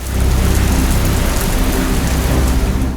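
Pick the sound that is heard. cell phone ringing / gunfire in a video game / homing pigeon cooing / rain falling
rain falling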